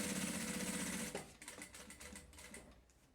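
A sewing machine backstitches at the start of a strap seam on a lunch bag. A fast, loud motor chatter runs for about a second, then gives way to quieter, uneven clicks and taps of handling.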